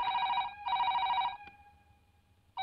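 A telephone rings in two bursts of a bright electronic trill, loud and close, followed by a fading tail and a brief start of another ring; no voices are heard.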